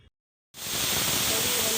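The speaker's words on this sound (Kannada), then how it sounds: "1 ವಿಜಿಲ್ ಆಯಿತು." Steam bursts from a pressure cooker whistle on a kitchen stove while vegetable sambar cooks, a loud, steady hiss that starts abruptly after a short silence and holds at full strength to the end.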